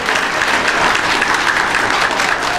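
Crowd clapping during a political debate in Franklin, a steady, dense burst of many hands that sounds close and loud, continuing without a break and with no voices over it.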